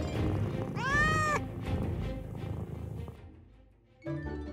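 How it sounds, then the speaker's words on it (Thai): A domestic cat gives a clear, drawn-out meow near the start, then a shorter second meow at the end, close and distinct over a quiet indoor background. "เอมม่า ถึงเวลาให้อาหารแมวแล้ว"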